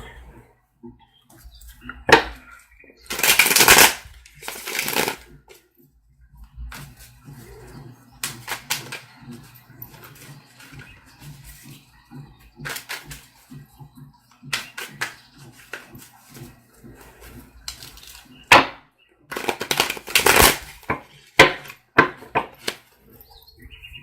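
Bursts of tarot cards being riffled and shuffled, loud flurries separated by quieter pauses with soft handling sounds.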